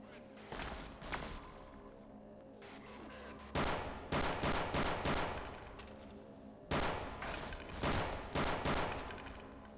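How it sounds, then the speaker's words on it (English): Enemies in a hardcore Half-Life mod open fire on the player, with several loud bursts of automatic gunfire separated by short pauses, each burst made of rapid sharp cracks and reverberant tails. "Gonna shoot at me."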